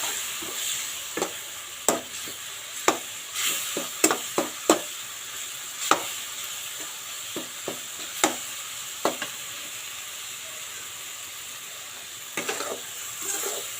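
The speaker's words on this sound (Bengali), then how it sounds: "তো মশলাটা ভাজা হয়ে গেছে" Spice paste for a spicy sea-fish curry frying in a pan, a continuous close sizzle punctuated by a dozen or so sharp clacks of a spoon scraping and stirring at an uneven pace, with no voices.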